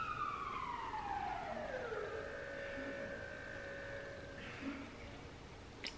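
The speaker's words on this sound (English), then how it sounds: "Every day in Stellenbosch, there's a siren." A distant emergency vehicle siren in Stellenbosch wails, its tone sweeping down and then holding a steady pitch before fading out.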